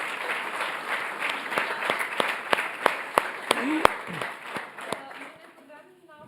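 A graduation ceremony crowd claps for a graduate, a dense burst of applause with distinct loud claps that thins and fades near the end, a voice briefly audible as it dies away.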